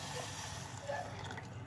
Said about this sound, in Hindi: इसके अंदर हम बिल्कुल ठंडा पानी ऐड करेंगे दोबारा